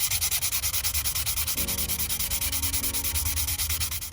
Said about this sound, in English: sanding down the entire body with a 600 grit in order to get it ready for the primer to go on